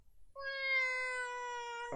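A single long, drawn-out meow from an old female cat, clear and close, steady in pitch, ending abruptly with a soft bump.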